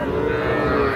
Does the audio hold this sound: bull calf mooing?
yes